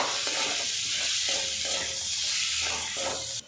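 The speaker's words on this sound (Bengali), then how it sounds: "কিছুক্ষণ নাড়াচাড়া করে চিকেনটা ভাজা ভাজা করে নেব মশলার সাথে" Chicken pieces fry in a kadai with spices, tomato, coriander leaves and green chillies while being stirred. A dense, continuous sizzle is broken by soft rhythmic scraping strokes, then cuts off abruptly at the end.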